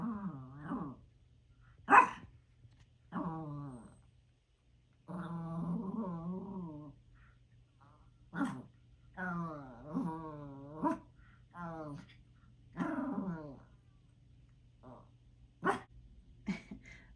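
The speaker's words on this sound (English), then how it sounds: "my dog was barking at my reflection in the window." A dog indoors barking and growling at a reflection in a window, a series of close, sharp barks and low growls in irregular bursts separated by short quiet gaps.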